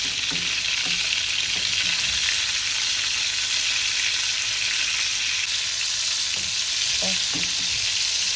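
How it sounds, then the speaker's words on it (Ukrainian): Cutlets fry steadily in a pan with a loud, continuous hiss and crackle of oil, a few faint spatula knocks near the end. "Процес жарки."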